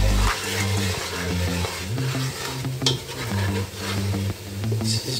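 Beef nihari masala being stirred and fried in a pot, a steady close sizzle with repeated scraping strokes of a spoon throughout, no talking.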